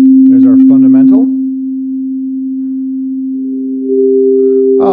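Steady pure sine tone sounding alone after a brief burst of speech, then a second higher tone joins near the end to form a sustained perfect fifth, 3:2 ratio, with more talk cutting in at the close.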